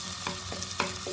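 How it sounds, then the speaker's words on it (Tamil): Chopped tomatoes sauté in a pan for Dindigul thalappakatti-style egg biryani: a steady close sizzle broken by several quick, rhythmic stirring scrapes of a spoon. "இது நல்லா வதங்கட்டும்."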